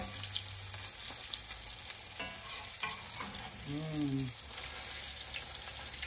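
Salmon cakes sizzle and crackle steadily in a frying pan, a close, continuous fry with a few brief clatters and scrapes from turning them partway through.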